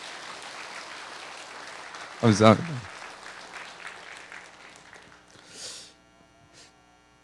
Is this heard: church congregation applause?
yes